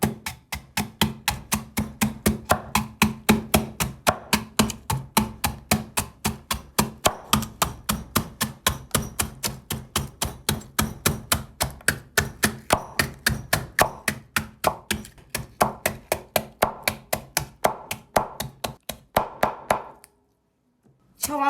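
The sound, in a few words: crushing lotus root with the back of a knife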